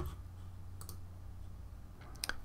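Computer mouse clicking while toggling layer visibility in Photoshop Elements, two faint, brief clicks separated by quiet room hum, no talk.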